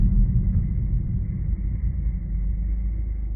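Low, steady engine rumble from a Mazda car coming to a stop and settling into idle, heard from inside the cabin, continuous and muffled with slight fluctuations and no talking.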